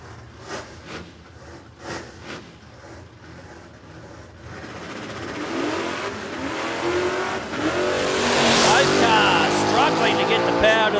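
A no-prep drag racing car at Warwick Dragway, Australia, launches and revs hard down the strip, struggling for traction. The engine roar builds steadily and grows louder and closer, with a commentator talking over it.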